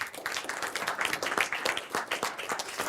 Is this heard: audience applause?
yes